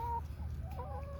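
Chickens cluck faintly at a farm with feed and water setups, a few short, high, quavering calls over a low background hum.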